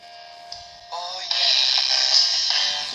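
A hand crank emergency radio tunes into a song, music with guitar and vocals rising out of faint static, small and tinny through the built-in speaker, growing louder after a second.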